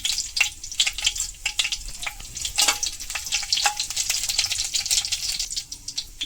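Bay leaf, dried red chili and coriander seeds crackle and spit in hot oil, a loud, busy sizzle full of rapid popping clicks that continues for several seconds with no voices.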